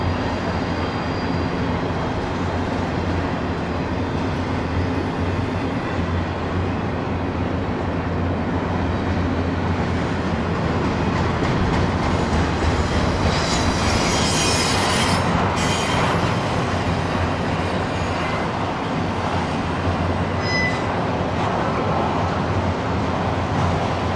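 A CSX freight train rolls steadily past up close, its wheels squealing and railcars rumbling in a loud continuous roar, with shrill squeals rising briefly near the middle.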